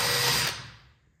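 A power drill with a half-inch bit, used while fitting a VY Commodore brake booster bracket on an H-series car, spins at full speed for about half a second and then winds down quickly to silence.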